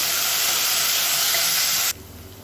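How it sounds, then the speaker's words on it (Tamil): Vegetables sautéing in hot oil for mushroom pulao give a loud, steady sizzle close by, then it abruptly drops to a much quieter, duller hiss near the end; no one speaks. "இப்போ இது எல்லாமே நல்லா வதங்கிட்டு இருக்கு."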